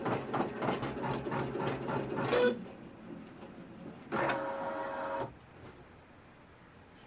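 A Designer 1 embroidery machine stitching with a mega hoop runs in a steady rapid mechanical clatter, then pauses before a second short burst of whirring, close and moderately loud.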